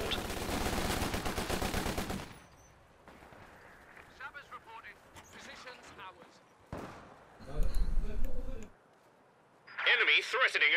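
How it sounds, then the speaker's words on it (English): Machine gun fire in Company of Heroes 2, a World War II strategy game with double machine guns engaging infantry sections, comes in loud bursts at the start and again near the end, with commentary running through the middle. "he's got the double machine guns, which are always headache for the sections"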